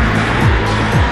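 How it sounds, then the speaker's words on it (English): Electromagnet-launched roller coaster cars accelerate from a standstill, giving a loud, steady mechanical roar with two brief swooping whooshes, no voices. "This enables the cars to accelerate from a dead standstill"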